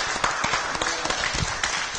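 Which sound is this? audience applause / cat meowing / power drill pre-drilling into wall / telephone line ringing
audience applause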